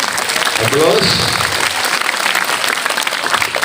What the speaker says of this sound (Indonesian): Demikian, tepuk tangan untuk kita semua.